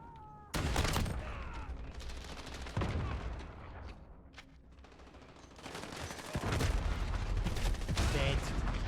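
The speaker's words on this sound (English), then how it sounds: "Shotgun. Let's see the shotgun." Shotgun gunfire in a Call of Duty: Modern Warfare multiplayer match, heavy booming blasts spaced a couple of seconds apart amid other distant gunfire and chaotic battle noise, with some talk underneath.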